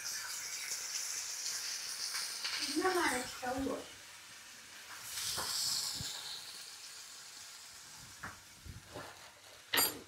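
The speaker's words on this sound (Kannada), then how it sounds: "ಇದು ಫ್ರೈ ಆಗ್ತದೆ, ಲೈಟ್ ಮೈಲ್ಡಾಗಿ ಫ್ರೈ ಮಾಡ್ಕೋಬೇಕು" Garam masala mixture frying in a pan gives a steady, soft hiss and sizzle with occasional stirring scrapes, while a voice talks intermittently nearby.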